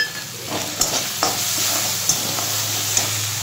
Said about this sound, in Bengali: এটা হালকা করে কষিয়ে নিতে হবে